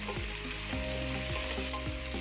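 Chopped tomato hits a pan of sautéing onion, chilli and curry leaves for soya chunks ularthiyathu, a loud close sizzle with stirring scrapes and no voices.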